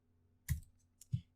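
Two isolated keystrokes on a computer keyboard, soft close clicks about half a second apart in a quiet room.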